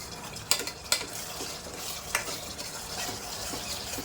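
Kidney masala (bhuna gurda) is stirred and roasted in a pan, with a steady close sizzle and several sharp spoon scrapes against the pot at irregular intervals, no talk.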